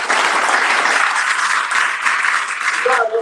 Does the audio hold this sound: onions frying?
no